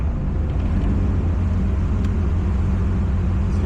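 Toyota Supra MKIV engine running steadily up close, a loud continuous low rumble filling the whole clip with a faint rev swell, no speech over it.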